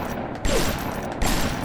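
Gunfire in the BioShock video game, shooting at mines, comes as two quick loud bursts over a constant background hum of game noise.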